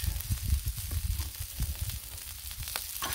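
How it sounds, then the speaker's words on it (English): Leftover fried rice on a Blackstone griddle with vegetable oil, a close, busy sizzle and crackle with scraping stirs throughout and no talk. "Dump the leftover fried rice."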